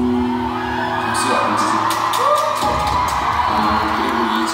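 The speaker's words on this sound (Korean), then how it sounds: "박수" A studio audience cheers loudly for K-pop group KARD's comeback, with shouts, whoops and crowd noise swelling together near and steady through the moment.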